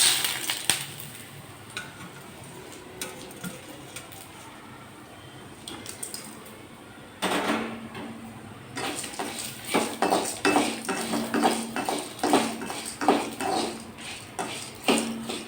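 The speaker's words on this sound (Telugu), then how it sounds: "నూనె వేయకుండా ఉట్టి వేయించుకుందాం." Toor dal, red chillies, pepper and coriander seeds are dry roasted without oil in a pan. A quiet hiss turns into rapid, rhythmic scraping and rattling as a spoon stirs the dry mix, close by.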